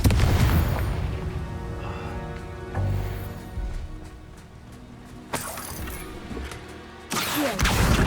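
Confringo explosion spell in Hogwarts Legacy, heavy booming blasts with shattering debris, one near the start and others around three, five and seven seconds, separated by quieter fading rumble.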